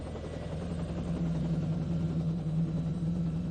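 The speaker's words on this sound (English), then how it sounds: "a helicopter with 5 airmen from the Air Force Base takes off to help in the search for Candy along the Spokane River." An Air Force helicopter lifting off for a river search, a steady low rotor and engine drone holding close and even throughout.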